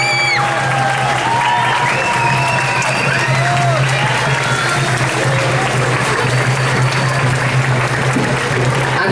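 Audience applause at a community pageant for queen and princess candidates of foreign communities in Rosario, Argentina: a dense, steady wash of clapping from a large crowd lasting the whole stretch.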